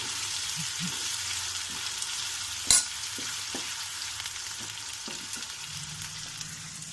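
Onion and curry leaves with turmeric sizzle steadily in hot oil for a cauliflower fry, a continuous crackling hiss with occasional soft stirring knocks and one sharp utensil clack.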